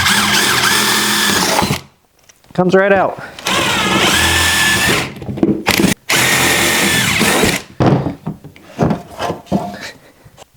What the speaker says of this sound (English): I'm just drilling right into the center of it